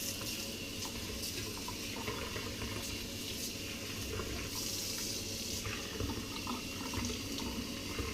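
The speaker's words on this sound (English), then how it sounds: "put some water in this bowl" Tap water runs steadily into a mixing bowl in a home kitchen while cupcakes are made, a continuous close hiss and splash with slight shifts in tone as the bowl fills, and no talking.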